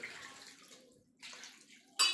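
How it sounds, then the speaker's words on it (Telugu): Water is poured into a pot of chicken and raw mango curry in short, soft splashing bursts, close and quiet, ending in a brief louder gush. "కొంచెం నీళ్ళు పోసుకుందాం"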